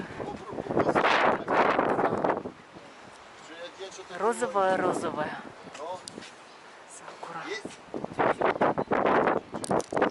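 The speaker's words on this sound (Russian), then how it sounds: "Ветер, правда, очень сильный, очень. Поэтому камеру может вот прям долбить ветром." Heavy wind buffeting a camera microphone by the water in Kaliningrad, with loud rumbling gusts that come and go while someone talks over it.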